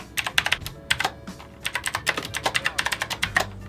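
Rapid clacking keystrokes on an affordable PC gaming keyboard, close and crisp, in quick irregular bursts with a brief pause midway.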